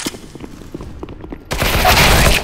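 A flashbang grenade goes off in a tactical shooter game: scattered sharp game clicks, then a sudden loud burst of noise that holds as a dense wash to the end.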